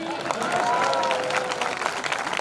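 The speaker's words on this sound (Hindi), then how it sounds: "भजन समाप्त, तालियां बजाइए" An audience at a kavi sammelan in Lalgaon applauds after a devotional bhajan: dense, steady clapping from many hands, close and loud throughout, with a few brief tonal voices or whistles rising over it.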